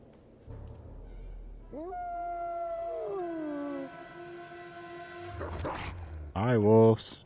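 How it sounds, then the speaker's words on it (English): Wolves in the video game Fable III let out rising, drawn-out howls that overlap and fade, followed by sharper yelping cries near the end, with a person talking at times. "Hi, wolves. You have weird drippy faces."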